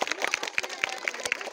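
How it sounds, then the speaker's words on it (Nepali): An audience claps at a farewell ceremony, a short burst of scattered, uneven hand claps at moderate loudness. "ताली बजाइदिनु"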